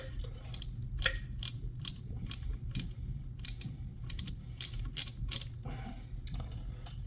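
A hose clamp is tightened by hand on a Jeep, giving rapid clicking, ratcheting bursts in irregular clusters over a low steady background hum, close and moderately quiet, with no talk.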